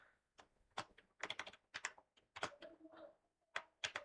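Quick, irregular clicks of typing on a computer keyboard, with bursts of keystrokes and short pauses, quiet and close by.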